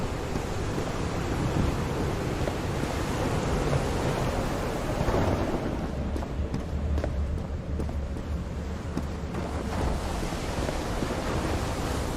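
Stormy seaside ambience from the video game Call of the Sea: continuous roaring surf and wind, with low rumbling thunder building midway, steady and fairly loud throughout with no voices.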